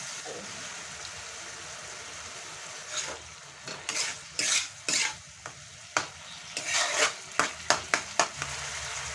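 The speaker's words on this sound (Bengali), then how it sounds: "এখন আমি দিয়ে দেব এই তেঁতুল জলটুকু" Tamarind water goes into a hot pan of bottle gourd pickle, setting off a run of loud, bursting sizzles and spatters after a quieter frying hiss, with several sharp crackling surges close by.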